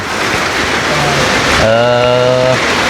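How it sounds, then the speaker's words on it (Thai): Steady rain falling outdoors at a rural home, a dense hiss of drops filling the whole clip, with a brief tonal hum rising partway through. "โอ้ฝนตกเนาะหนาวนี่แหละ"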